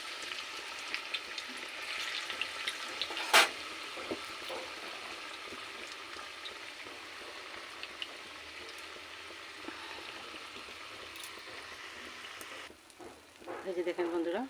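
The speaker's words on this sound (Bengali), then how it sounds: "কড়াইতে তেল বসিয়ে দিয়েছি। এখন আমি যে মোচার পকোড়াটা ভেজে নিব" Banana flower fritters deep-fry in hot oil in a wok, giving a faint, steady sizzle and bubbling throughout, with a few small clinks and some louder spattering near the end.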